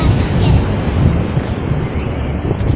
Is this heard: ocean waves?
yes